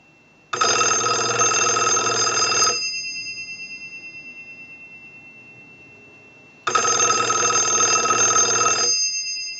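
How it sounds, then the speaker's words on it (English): A Stromberg Carlson 1212 rotary desk telephone rings under a test ring cycle: two loud, sustained bell bursts of about two seconds each, separated by a long silent gap in which the ring slowly decays away. "we want to use the analyzer and send a ring cycle"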